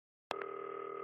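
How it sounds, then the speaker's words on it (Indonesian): A telephone in the video game Not for Broadcast starts ringing with a sudden click and then a steady, clear electronic tone that holds on its own. "Oh, telepon."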